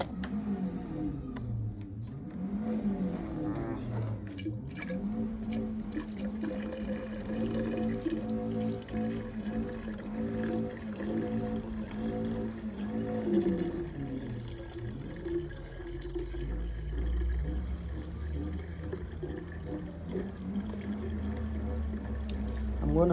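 Water is poured into the coolant water bottle of a 2012 Ford Fiesta 1.4, a continuous gurgling trickle lasting over twenty seconds with shifting pitch as the bottle fills, no talk over it.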